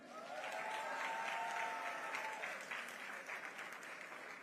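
Applause from a morning audience at a Jamaican creative career expo, welcoming the artist High Flames to the stage: a dense, steady wash of clapping with a few whistles and cheers, faint and distant, tapering slightly toward the end.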